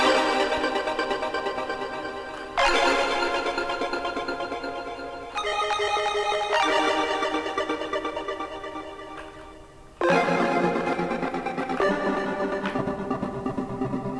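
An evolving synth pad made in the Phase Plant synthesizer plays sustained, shimmering chords with a rapid pulsing flutter, shifting to a new chord every few seconds, loud and with no voices.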